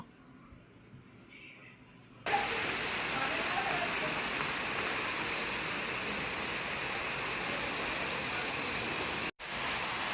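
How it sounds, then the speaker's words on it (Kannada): Heavy rain begins abruptly after a quiet moment, a dense, loud, steady roar that briefly cuts out near the end. "ಎಷ್ಟು ಜೋರದಲ್ಲ ಮಳೆ"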